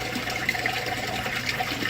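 Water drains steadily through the siphon of a small modular aquaponics grow bed, a continuous close gurgling trickle with soft bubbling, no voices over it.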